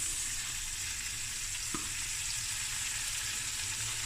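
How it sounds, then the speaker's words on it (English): Peppers frying lightly in a pan for a Cape Town style seafood boil, a steady soft sizzle close by with one brief clink partway through and no talking. "I'm going to fry it lightly, not too much."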